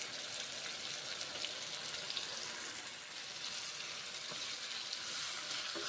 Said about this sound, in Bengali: ঝিঙ্গেগুলো মুসুরির ডালগুলো ভেজে নিচ্ছি